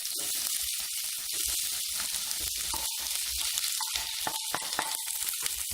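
Diced onion and coriander stalks fry in melted fat in a pan, giving a soft, steady sizzle with occasional crackles and a few stirring knocks and scrapes, no voices over it.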